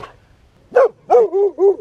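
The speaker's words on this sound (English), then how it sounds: "What are you barking me for?" A dog barking indoors at close range: one sharp bark, then a quick run of three yelping barks, loud and clear with no talk.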